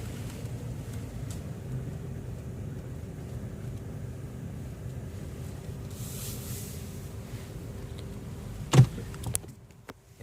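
A 2016 Jeep Renegade cruises along the road, its steady low engine and road rumble holding evenly throughout, with a brief louder thump near the end as the sound drops away.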